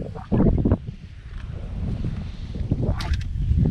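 Strong, dry winter wind blows across the open, clear water of a lake, rumbling and buffeting close to the microphone in a continuous low roar with gusty swells.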